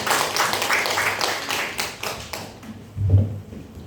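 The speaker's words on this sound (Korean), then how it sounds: "박수로 환영하도록 하겠습니다" A burst of applause from a church congregation at a Sunday service fills the room, then fades out, followed by a low thump near the end.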